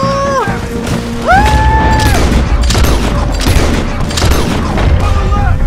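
Dense gunfire from a Red Dead Redemption 2 firefight, loud, overlapping shots and booms in quick succession filling the whole stretch, with game music and occasional voices underneath.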